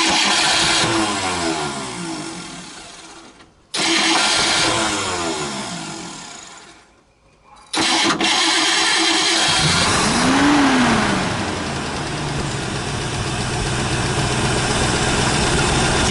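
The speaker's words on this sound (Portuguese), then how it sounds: "Então vamos lá, Ká, tenta dar uma partida." Ford Maverick V8 engine cranking, with two brief drop-outs as the starter cuts, then catching and idling steadily close by, with a short rev swell partway through.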